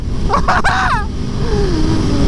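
A 2017 Aprilia Tuono V4 1100 Factory motorcycle hums along at speed, its V4 engine a steady low drone beneath wind rush, with a brief burst of a man's speech near the start.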